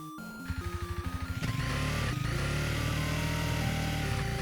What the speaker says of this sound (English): I'm going to sample sound effects for the motorcycle in a game I'm working on called Petal Runner.